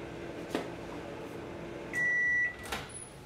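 A microwave oven hums steadily while cooking a potato in a plastic bag. Soft thumps sound over the hum, then a single long beep sounds near the end.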